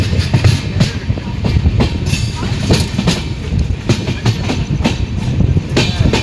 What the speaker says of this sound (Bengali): এই যে প্ল্যাটফর্মে এন্ট্রি করছে পাঠানকোট রেলওয়ে স্টেশন।